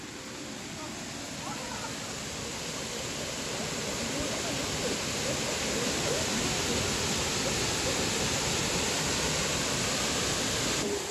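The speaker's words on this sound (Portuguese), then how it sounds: "Olha, gente, a cachoeira, ela é bem gostosa." A waterfall pours in a continuous, broadband rushing roar that builds slightly and then stays steady and close throughout.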